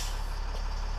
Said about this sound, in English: before I take off, I like to give the brakes a couple pumps